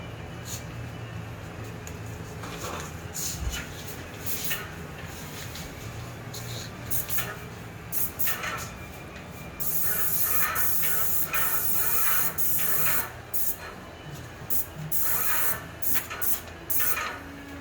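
Tritech airless sprayer laying Renner wood coating onsite: a steady, close broadband hiss of spray that swells and cuts in bursts as the trigger is pulled and released, over a low mechanical hum.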